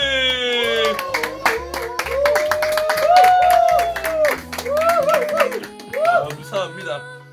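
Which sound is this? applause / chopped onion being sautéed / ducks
applause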